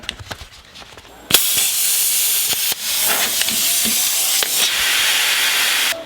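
Plasma cutter slicing through thick steel on a Jeep Wrangler JL during a lift kit install, a steady loud hissing roar that kicks in abruptly and runs continuously with small crackles and pops.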